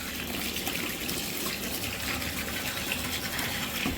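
Clean water gushes from a tap into a bathtub, filling it to soak a dress. The stream is steady, close and loud, and it runs on without a break.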